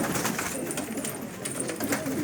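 Pigeons coo softly and steadily around a loft of Arabian, Syrian and other homing breeds, with a low continuous murmur of birds close by and no voices.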